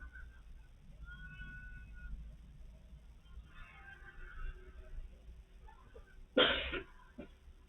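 A single loud cough bursts out near the end of an otherwise quiet stretch, close and abrupt, with a softer throat sound just after it and faint faraway murmurs earlier.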